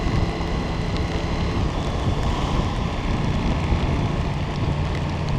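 Steady rain pours down on a rider in a motorcycle rain-gear test, a dense, even hiss with wind noise and no talking.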